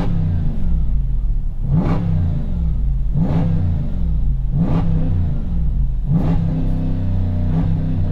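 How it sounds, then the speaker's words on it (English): A Hemi-swapped Jeep JK engine revs hard in five sharp, evenly spaced bursts over a steady loud idle, heard close and alone. "Now, I'm gonna have Ryan rev it up while I hold it like kind of right here where that noise is gonna come through."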